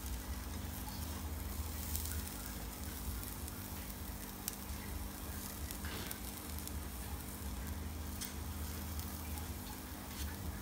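Bee larvae fry in a pan with a continuous, dense sizzle and crackle that holds steady throughout, with occasional faint ticks.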